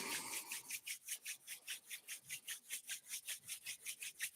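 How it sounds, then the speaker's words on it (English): Hands rubbing briskly together at the start of a Pilates class, a steady rhythmic swishing of about four strokes per second, close and alone without speech. "we're going to begin with some hand rubbing"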